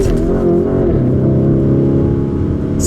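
A 650-horsepower 2021 Lamborghini Urus SUV revs hard while accelerating in track mode. A loud, deep engine roar shifts in pitch as it pulls, sustained and close for the whole few seconds.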